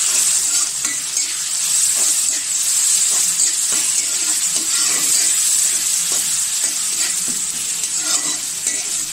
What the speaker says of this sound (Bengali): এই যে আমি চুলায় সরিষার তেল দিয়ে পেঁয়াজ কাঁচামরিচ দিয়েছি, এখন দিব রসুন,